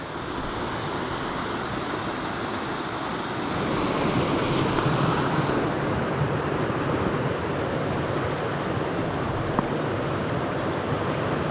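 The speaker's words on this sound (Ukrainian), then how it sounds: "Водоспад малий Кузьминець." The small Malyi Kuzmynets waterfall in winter pours steadily, a dense, continuous rush of flowing water heard up close that swells slightly louder partway through, with no voices.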